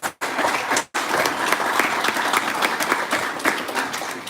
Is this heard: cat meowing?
no